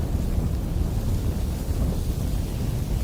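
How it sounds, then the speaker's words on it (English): Ignition of a huge hydrocarbon vapor cloud at Chevron's Richmond refinery, rendered as an animation sound effect: a steady, dense low roar and rumble that stays loud and unbroken throughout, with no voices. "At approximately 6:30 p.m., 2 minutes after the huge vapor cloud formed,"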